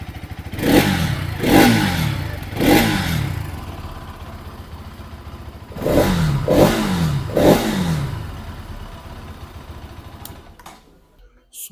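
A Bajaj Pulsar NS200 motorcycle engine is revved in two groups of three sharp blips, each rising and falling quickly over a loud idle, before the sound cuts out near the end.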